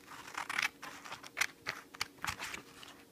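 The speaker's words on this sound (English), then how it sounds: "I'm going to trim them out with some scissors" Several sharp, quick snips of scissors cutting through stiff dried resin charms, spaced irregularly, close up with no talking.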